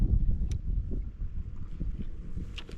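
Wind buffeting a microphone outdoors on the water while crappie fishing ahead of a cold front, a steady low rumble with gusty swells, a couple of faint higher taps.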